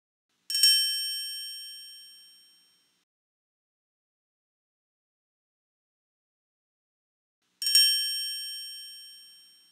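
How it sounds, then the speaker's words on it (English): A triangle from the Lamb Chop Loves Music computer game rings twice, each a bright metallic strike that slowly fades out, separated by several seconds of silence. "You found the triangle."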